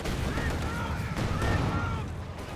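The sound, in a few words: concussion grenades exploding in the video game Company of Heroes 2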